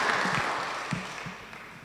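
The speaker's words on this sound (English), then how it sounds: "Let's give him a round of applause" Audience applause at a judging event, a steady wash of clapping that holds at an even level for about two seconds and tapers slightly toward the end, with no talking over it.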